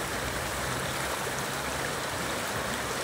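A provincial river rushes steadily with a dense, even broadband wash of flowing water, close and constant throughout.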